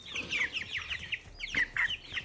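A flock of large meat birds on a homestead clucks close by in bursts of busy, overlapping calls, rising to a few sharper squawks with no one speaking.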